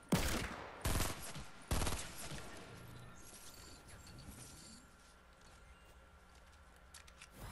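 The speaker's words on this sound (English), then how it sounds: "Shots are coming in from the middle of the lake, east 105." Video game gunfire: three loud, sharp shots in quick succession at the start, then a fainter rattle of distant shots fading into quieter background noise.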